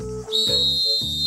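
Sharp, shrill whistle in a cartoon set in the Australian outback, one sustained piercing blast that holds steady over a bouncy musical backing.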